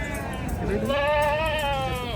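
A single drawn-out goat bleat, wavering and fairly close, rises over faint background voices at a livestock market in Lahore.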